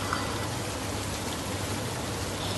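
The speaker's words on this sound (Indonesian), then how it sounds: "Di depan kan hujan." Steady rain falling outdoors, a dense, even hiss of drops with no breaks and no voices, moderately loud and close.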